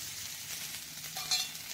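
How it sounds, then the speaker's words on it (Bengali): Cauliflower frying in a pan as potato pieces go in, a steady close sizzle with a brief clink near the end. "কপিটা দেখুন আমার বেশ ভালো ভাজা ভাজা হয়ে গেছে। এবার আমি এতে দিয়ে দিচ্ছি আলুটা"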